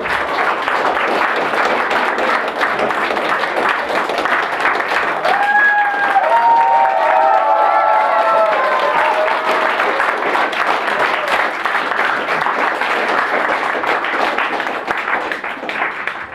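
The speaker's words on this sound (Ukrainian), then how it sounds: "давайте привітаємо оваціями наших прекрасних наречених Олександра та Алло" A wedding crowd applauds the newlyweds with sustained, loud clapping lasting the whole stretch, with a few cheers and voices rising through it.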